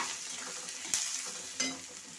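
Onions frying in hot oil for potato paratha, a steady close sizzle with stirring scrapes and two brief louder crackles.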